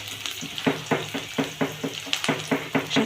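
Onions and chillies frying in a pan for ridge gourd chutney, a steady sizzle broken by regular rhythmic scraping strokes of a spatula stirring, close and moderately loud.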